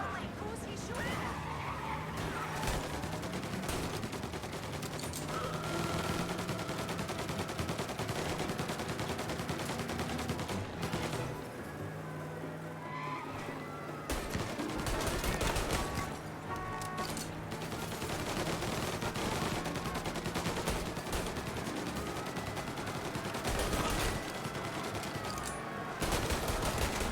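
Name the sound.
gunfire in a car chase, from the video game Mafia: Definitive Edition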